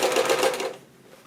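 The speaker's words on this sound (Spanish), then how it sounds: "De coser esa costura que bajará un poquito hacia la pernera." A sewing machine runs a short burst stitching the side seam of a pair of trousers down toward the leg, a quick steady mechanical whir lasting under a second before it quiets.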